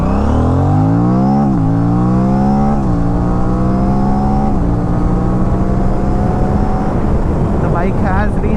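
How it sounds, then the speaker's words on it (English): Motorcycle accelerating to 100 km/h with a loud, rising engine note through the gears, then braking hard with ABS on, the engine winding down toward a stop; loud, close and continuous, with a voice over it. "The bike has reached 100 kmph and I slam on the brakes."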